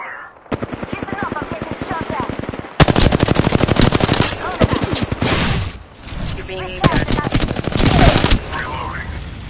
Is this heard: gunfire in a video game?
yes